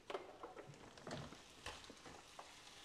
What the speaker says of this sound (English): Do you hear that? Yeah, that sizzle